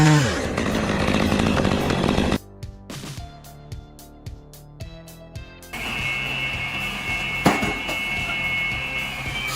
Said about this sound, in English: I just saw this Hartnett petrol lug saw in action